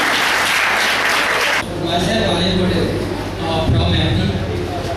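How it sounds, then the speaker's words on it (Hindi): A short burst of audience applause at a Mumbai youth conference on saving the girl child, filling the first second and a half before a speaking voice takes over. "तालियां बजाइए"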